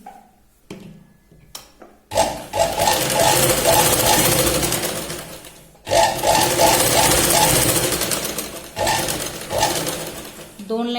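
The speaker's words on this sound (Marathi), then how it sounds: "तर गळ्याचा जो पार्ट आहे तिथे आपण सरळ शिलाई लावून घ्यायची" A sewing machine runs a straight stitch along a blouse neckline, in repeated fast bursts of rapid mechanical chatter separated by short pauses, close and loud.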